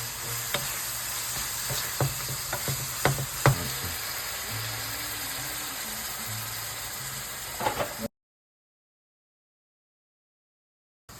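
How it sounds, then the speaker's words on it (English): Ground beef sizzles and hisses steadily in a pan as onions and garlic are stirred in, with repeated scraping and clacking knocks from the stirring over about eight seconds before the sound cuts to silence. "now we're gonna add our onions and our garlic from earlier. Get that all mixed up in there."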